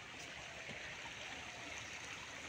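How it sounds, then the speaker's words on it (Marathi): A river flowing nearby during a fishing outing, a steady, soft rushing wash of water that holds constant throughout with no other sounds. "पण नदीचा आवाज मस्त असा येतोय."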